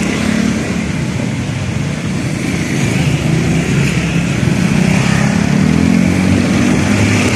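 A jeepney engine runs steadily on the road at night, a loud continuous drone with rising revs toward the end and no talking.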